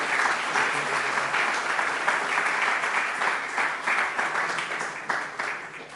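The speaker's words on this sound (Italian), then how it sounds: "Un bellissimo applauso." A lecture audience applauds steadily for about six seconds at an evening talk on historic routes between Mestre and Venice; dense, sustained clapping fills the room at even loudness, with no voices over it.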